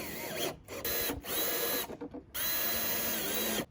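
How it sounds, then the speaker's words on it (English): A power drill drives drywall screws into a wooden herb planter box, close and loud, in several sustained whirring bursts separated by short pauses. "now we're gonna try 3, which is screwing in with some drywall screws that I have."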